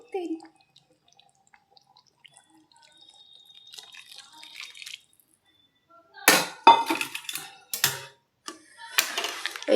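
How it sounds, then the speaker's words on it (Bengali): Leftover water poured into a pot of chicken curry to make a thin broth, heard as bursts of splashing and pouring that come after a quiet, faintly dripping start. "তো এবার বাকি জলটা দিয়ে দেবো।"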